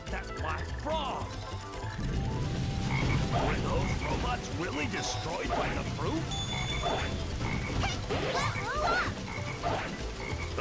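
A black frog in Sonic Heroes croaks repeatedly amid clattering, ratcheting game mechanisms and effects, while a character talks over it.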